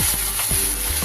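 A paste of ginger, garlic and green chili sizzles in hot oil with half-fried onions for a chicken curry, giving a loud, steady crackling fry broken by a few scraping stirs of a spoon.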